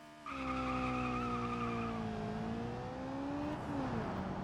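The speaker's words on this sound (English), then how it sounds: "A lot more wheel spin off the line" Wheel spin and tire squeal off the line from a front-wheel-drive Chevrolet Covet drag racing in BeamNG, a sustained tonal screech over a steady engine drone, loud and continuous, shifting pitch near the end.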